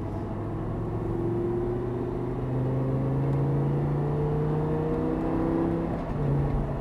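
An Audi R8 V10 accelerating on the Circuit du Laquais, with a steady engine whine climbing in pitch through the gears, heard close and continuous at moderate level with no voices.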